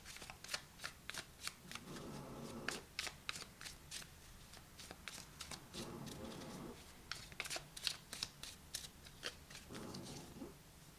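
Tarot cards being shuffled and drawn close up: a long run of quick, soft papery riffles and slaps in irregular bursts, fairly faint, with brief rustling pauses between shuffles.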